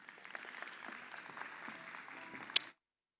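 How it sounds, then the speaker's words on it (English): Audience applause at an electric-vehicle summit, a steady patter of many hands clapping at moderate distance, ending with one sharp louder clap before cutting off abruptly. "Let's give him a warm round of applause."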